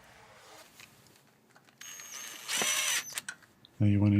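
A power tool spins up in short bursts while bolts are tightened on the front hub of a 1984-1989 Toyota 4Runner. Each whir and ratcheting buzz is close and moderately loud, and a low tonal hum at the end cuts off abruptly.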